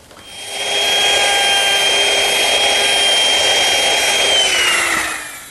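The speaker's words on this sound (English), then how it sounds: "bring the router in somewhere in the center of the leg" A router cuts into a wooden desk leg, guided along a square, with a loud, steady high whine that holds for several seconds before easing off at the end.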